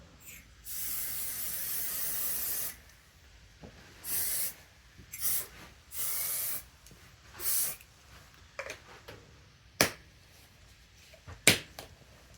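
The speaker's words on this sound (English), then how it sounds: "Now we're gonna spray some of this release spray on it." Several short bursts of mold release spray hiss close up over an epoxy coaster mold, one long spray followed by shorter pulses, ending with a few sharp clicks.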